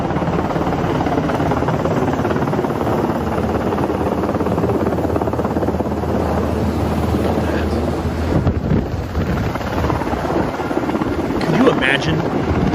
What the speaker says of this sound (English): That's a Blackhawk helicopter.